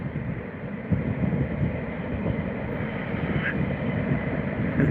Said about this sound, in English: That's a big old carriage train. It's taking no end of containers. Big old diesel.